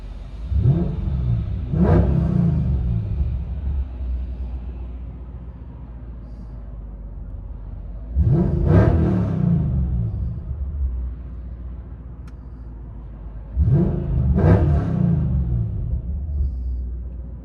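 Tuned 2004 Mercedes E55 AMG with headers, X-pipe, stage 2 tune and smaller pulley, giving three loud revving blips about six seconds apart, each a rising roar that falls back to a deep, steady idle rumble.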